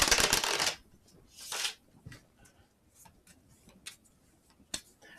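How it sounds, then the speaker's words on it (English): Playing cards for the Kingdom Death Monster board game are shuffled close up with a loud riffle and rattling burst, then a second riffle, followed by quieter clicks and taps. "Making sure I shuffle these pretty good since we put a few on the top"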